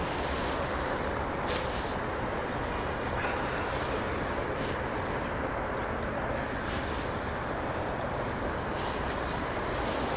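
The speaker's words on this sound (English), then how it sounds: "You heard those waves? Not real waves, they're probably generated by those boats." Boat wakes wash against the waterfront in New York City, a continuous low rush of water mixed with wind buffeting the microphone, with a few faint brief clatters.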